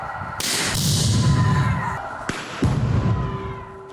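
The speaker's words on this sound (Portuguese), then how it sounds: "A bomba caseira foi detonada por volta das 3 da tarde." A homemade bomb detonated by a police bomb squad gives two sharp blasts a couple of seconds apart, each a loud broadband crack followed by a rumbling roar that slowly fades.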